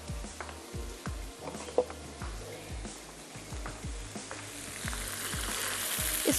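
Mutton paya (trotters) cooking in a pot over raised heat, a steady bubbling and sizzling with soft irregular pops running throughout, close and moderately loud with no talking.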